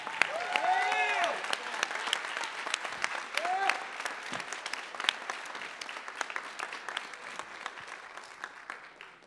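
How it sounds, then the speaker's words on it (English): Audience applause after a high school jazz band spring concert, a hall full of sharp individual claps forming steady ovation that slowly tapers, with whoops and cheering voices rising over it early on. "can you give a round of applause to Julia?"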